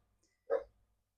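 A single short dog bark, fairly close and moderately loud, in an otherwise quiet indoor room with no talk over it.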